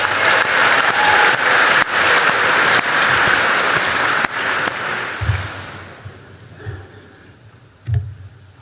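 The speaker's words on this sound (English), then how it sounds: "Just give yourselves a round of applause" A large crowd at a Brexit Party rally in Carn Brea, Cornwall gives a loud, sustained round of applause that gradually dies away, followed by a few thumps in near silence.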